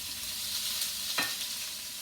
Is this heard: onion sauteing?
yes